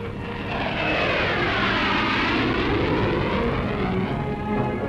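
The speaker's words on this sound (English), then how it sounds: "a flying test bed for the Olympus turbojet," Vulcan bomber flying as a test bed for the Olympus turbojet at an air display, a loud, sustained jet roar that swells and holds steady throughout with no voices.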